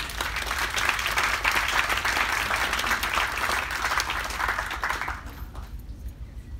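An audience bursts into dense, sustained applause at a talk by Greenland's former prime minister, holding steady for about five seconds before quickly fading to quiet.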